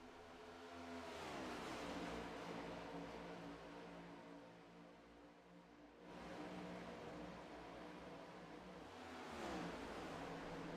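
Race cars accelerating on the Daytona International Speedway oval in the iRacing sim, a loud, steady engine drone that rises in pitch through several gear sweeps, with a dip and renewed climb midway, no voices.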